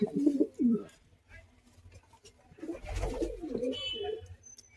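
Racing pigeons coo in short throaty bursts close to the microphone, an early pair of calls, then a longer cluster after a pause with a low thump and faint chirps.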